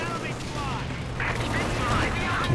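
Scattered small-arms fire crackles during a 2v2 Company of Heroes 2 match, short bursts at moderate distance under a caster's talk and low battlefield rumble.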